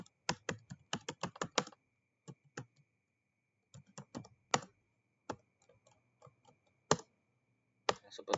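Keys on a computer keyboard clatter in quick bursts of clicks, a fast run of keystrokes followed by scattered single taps and short pauses, close and fairly quiet in a still room.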